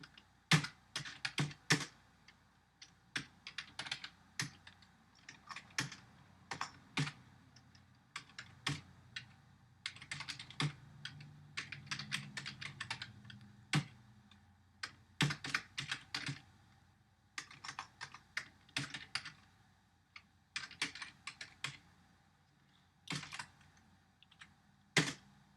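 Code being typed on a computer keyboard, with quick bursts of close, crisp key clicks separated by short pauses, quiet and with no voice.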